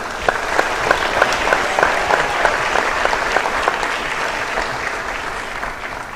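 An audience applauds junior recipients at an awards ceremony, with steady sustained clapping and a few sharper claps standing out, continuing for about six seconds.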